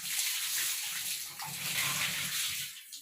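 Water is poured in a steady splashing stream, close and fairly soft, running for a few seconds before stopping, with no talk.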